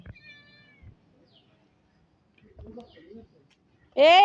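A cat meows near the end while eating a small snake outdoors in the rainy season, one loud close call after a stretch of quiet with faint background voices.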